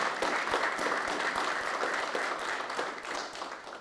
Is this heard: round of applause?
yes